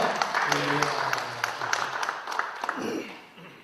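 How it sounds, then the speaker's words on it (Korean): A church congregation applauds during a Sunday worship service, a soft, spread-out patter of many hands beneath someone speaking Korean, moderately distant. "박수 영광 올리겠습니다"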